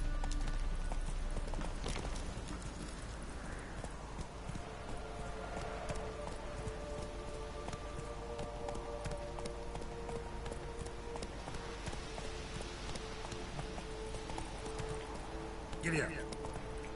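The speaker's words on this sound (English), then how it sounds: "Run, Roach." Roach, the horse in The Witcher 3 on PS4, gallops with steady, rapid clip-clop hoofbeats that run throughout, set against continuous game ambience with voices heard along the way.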